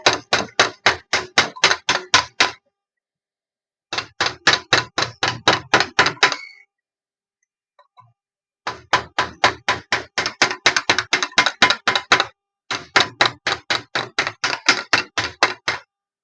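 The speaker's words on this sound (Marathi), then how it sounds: "सील करण्याकरता ह्याला आपण क्लॅम्प घेतलेला आहे आणि चारी बाजूने आपण ह्याला" A clamp is tapped all around the edges to seal them, giving four long runs of rapid, evenly spaced, loud knocks separated by short pauses.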